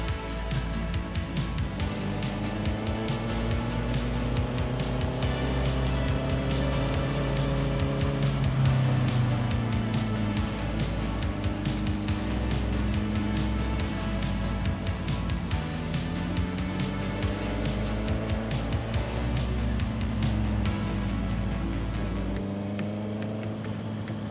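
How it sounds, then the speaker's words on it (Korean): Steady engine drone and road rumble while riding a motorbike through busy city traffic. The continuous tonal hum shifts pitch as the bike speeds up and slows, close and constant, with no speech. "오늘은 좀 차가 많네."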